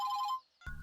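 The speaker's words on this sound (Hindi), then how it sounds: "ये कौन फोन कर रहा है?" A phone ringtone chimes loudly in a short tonal burst, breaks off, and then a different electronic ring starts up, close and clear with no voices.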